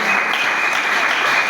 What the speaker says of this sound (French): Nous allons pouvoir acclamer pour la Coran.